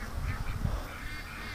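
Farm ducks raised for charity break into a burst of agitated honking and quacking, several overlapping calls clustered early on, then fading into a quieter restless murmur.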